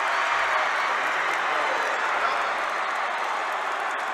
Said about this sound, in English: She's got the crowd going crazy.